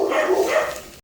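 Several dogs bark in an enclosed kennel room, a dense continuous burst of barking lasting about a second, close and loud.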